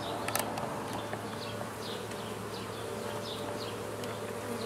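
Honey bees buzz continuously at a hive in a soft, busy drone, with individual bees zipping past near and far.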